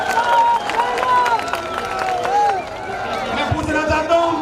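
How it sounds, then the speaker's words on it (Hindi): A crowd applauds at a political rally held by a chief minister in Nawa, Rajasthan, with steady clapping and crowd noise under voices speaking throughout. "ये आप ताली बजाकर एक बार सीएम साहब को पूरा विश्वास देंगे।"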